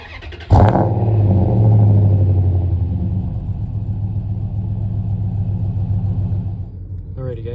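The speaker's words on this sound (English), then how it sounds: "get a cold start on this truck" A 2003 Ram 1500 pickup with the 5.7 Hemi V8 cranks and fires on a cold start, a sharp catch followed by a loud, flaring rumble that settles into a steady, close idle; a voice speaks briefly near the end.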